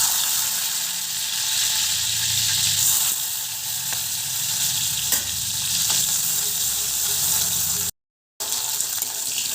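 Chopped onion sizzles and fries steadily in hot oil in a pan for a guar bean sabzi, a dense continuous crackle close by with one brief dropout and no talk.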